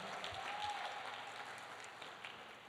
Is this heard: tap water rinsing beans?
no